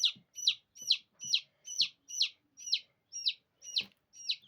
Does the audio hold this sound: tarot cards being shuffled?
no